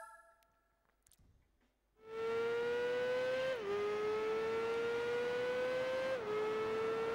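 A Gixxer Racing Modified motorcycle at Suzuka in the game Tourist Trophy: after a quiet start its engine snaps into a loud, steady high-pitched whine that climbs with brief dips at gear changes.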